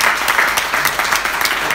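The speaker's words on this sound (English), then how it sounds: "let's give a round of applause to our speakers" Audience applause for panel speakers at a conference, a short burst of dense, steady clapping from many hands in a hall.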